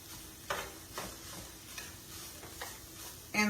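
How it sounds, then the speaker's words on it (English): Onions and ground Italian meat stirred in a pan, a spoon scraping in regular strokes about every half second over a soft, steady sizzle, close and quiet with no talking. "So now we're going to stir that around"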